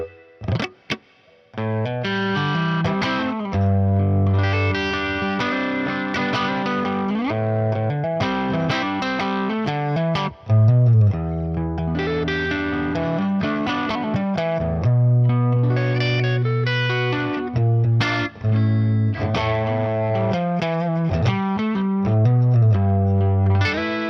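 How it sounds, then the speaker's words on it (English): A Gibson Les Paul gives a warm, slightly driven electric guitar tone with a chorus-like shimmer, playing loud continuous riffs and chords for over twenty seconds. "Now let's see what it sounds like on the Les Paul."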